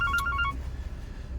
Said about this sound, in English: there's a phone going here